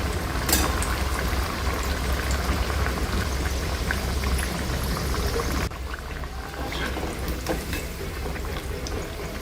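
Thin crispy tea-time snacks made from rolled chapati dough are deep fried in hot oil on medium heat, a dense steady bubbling sizzle that briefly shifts in level partway through, no talking.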